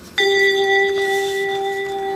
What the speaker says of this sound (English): turn the page every time you hear the chime